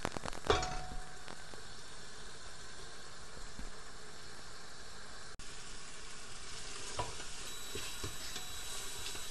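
Onion and tomato masala frying in a pan for a rajma curry, a steady close sizzle with occasional stirring clatter and scrapes, no talking.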